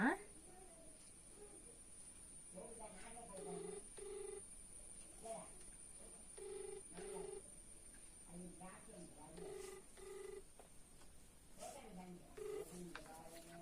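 A telephone rings on a radio phone-in call show, with repeated short tone bursts sounding faintly at intervals against a low background hiss.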